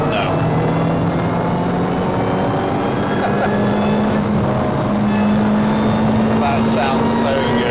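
A Lotus Elise Cup 250 with an RRR intake kit drones along at steady speed on a mountain pass, its engine note holding a constant pitch with road noise, while people talk over it.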